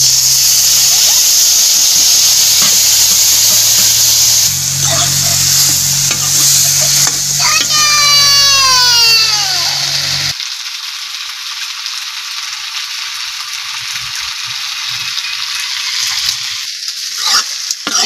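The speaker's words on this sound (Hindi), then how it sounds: "मसाला जैसे जैसे भुंजा रहा है तैसे तैसे तो खुशबू इसका बहुत ही अच्छे आ रहा है" Jackfruit curry with ground masala and tomato frying in a pan, a loud steady sizzle with stirring scrapes, then the sizzle thins to a quieter hiss with occasional crackles.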